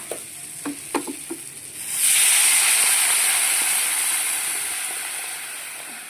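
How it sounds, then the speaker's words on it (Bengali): Water is poured into a hot pan of eggplant curry. After a few faint clicks, a loud, steady sizzling hiss erupts and then slowly fades as it settles. "বেগুনটা কষানো হয়ে গেছে, এবার আমি ঝোলের জন্য জল দিয়ে নেব।"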